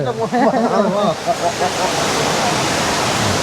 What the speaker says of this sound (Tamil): அதில் நம்ம மெயின் ஃபால்ஸ் பார்த்தோம்